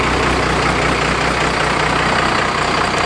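A van engine idles steadily while warming up, a continuous low broadband rumble that stays level and close throughout, with no voices over it.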